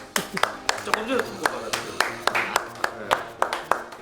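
Sharp, evenly spaced hand claps from a small group of research staff at a drone-making company office, about a dozen distinct hits over a few seconds, close by and heard under someone speaking.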